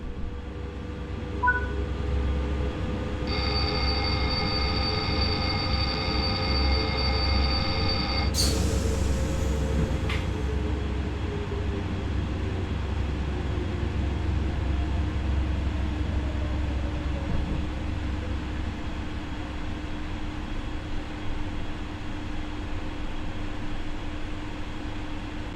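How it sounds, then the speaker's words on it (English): Train Sim World 6 train on the Zwolle to Groningen line comes under ATB-enforced emergency braking, a steady low rumble and hum with a tonal whine, a brief warning tone, then a sharp burst of air release and a falling drone as it slows. "wait for the train to enforce emergency braking"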